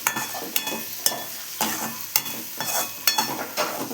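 A spoon stirs cashew and gathiya curry in a pan, giving a series of sharp, regular scraping strokes roughly every half second over a faint simmering sizzle, close and moderately quiet, with no talking.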